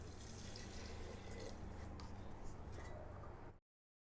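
Water poured from a measuring cup into rice in a pressure cooker for aloo masala pulao, a steady close splashing pour lasting about three and a half seconds before stopping abruptly.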